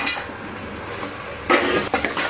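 Mutton pieces dropped into oil-fried masala in a pot for a Telangana-style mutton curry, giving a sudden burst of clattering sizzle partway through, followed by a few metal clinks of stirring.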